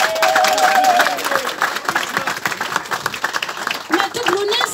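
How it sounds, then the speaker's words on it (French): Audience applause at a tribute ceremony for Matoub Lounès in Massy, a crowd clapping steadily with some cheering, moderately close, with a voice speaking over the clapping. "on les applaudit"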